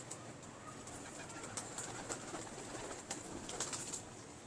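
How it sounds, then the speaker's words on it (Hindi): A Lakhi breed pigeon cooing faintly, several soft repeated calls over a steady background hiss, no voices. "बहुत शानदार कबूतर है, मजबूत तरीन कबूतर है।"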